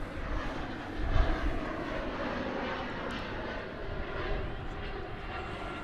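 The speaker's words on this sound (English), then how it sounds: "this is American Flight 665 from Montrose in Colorado, I believe it is." American Airlines Airbus A319 from Montrose, Colorado, landing at Dallas Fort Worth airport, a broad steady jet roar at moderate distance that swells slightly and holds, with faint talk beneath.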